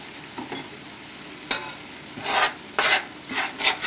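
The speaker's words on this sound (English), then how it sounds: "I'm going to stir it around." A whole pound of melted butter with two and a half cups of flour stirred in a pot, giving intermittent scraping, rubbing strokes with a soft sizzle, close and moderately loud, with pauses between bursts.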